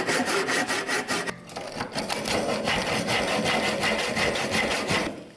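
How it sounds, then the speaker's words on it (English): Hand rasping and filing on a wooden piece being shaped for a ukulele, steady scraping strokes repeating close and loud throughout with one brief pause. "Then we can cut it and rasp it and file it around artistically to make that bit."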